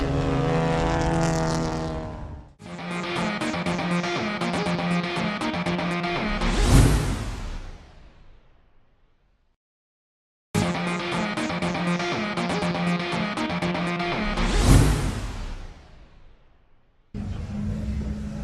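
Classic stock cars roar past one after another around the Brands Hatch circuit, each engine note rising loudly as it approaches and then fading away, with brief quiet gaps between the passes and no talk.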